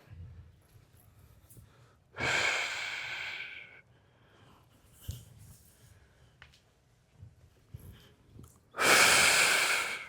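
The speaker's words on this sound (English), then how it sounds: "Breathing out as we side bend." Person exhaling during a side bend stretch in a volleyball warm-up, two strong, close breaths out a few seconds apart, separated by quiet stretches with faint shuffling.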